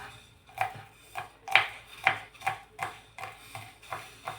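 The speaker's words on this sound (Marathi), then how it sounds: "आता हे छन्न्या शिजतायत तोवर आपण लसूण बारीक असा चिरून घेऊ।" Garlic cloves being finely chopped with a knife on a board, a steady series of about a dozen crisp, close knife taps in an even rhythm, with no talking.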